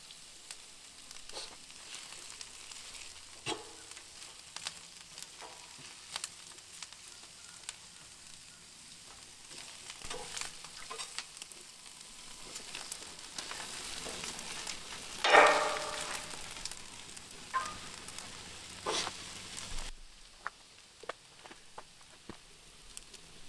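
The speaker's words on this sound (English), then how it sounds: "These onions have been cooking for a few minutes" Onions fry on a newly seasoned Blackstone griddle with a soft, steady sizzle and scattered crackling pops, plus occasional spatula scrapes, fairly quiet and without talking.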